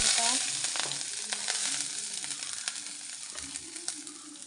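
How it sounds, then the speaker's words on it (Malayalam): Chopped onion and green chillies sizzle in hot coconut oil, a close, steady frying hiss that fades slightly, with a few soft stirring taps. "അരിഞ്ഞു വച്ചിരിക്കുന്ന ഉള്ളിയും പച്ചമുളകും ഇട്ട് കൊടുക്കാം."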